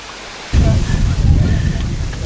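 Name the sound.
strong wind and ocean waves at the beach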